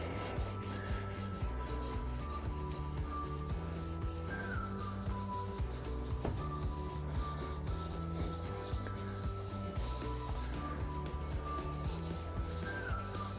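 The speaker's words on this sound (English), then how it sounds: "Okay, so I'll give this a little scrub" A scrubber rubs back and forth over a stove top in steady close strokes, a continuous gritty scraping rhythm with no talking.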